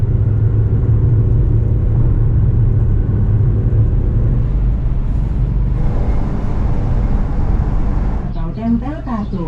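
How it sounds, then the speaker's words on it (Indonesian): A Wuling Almaz car on a city road at night, its low engine rumble and road noise droning loudly and steadily from inside the cabin, with a brief voice and whirring sound near the end. "sekarang kita becek gas ya"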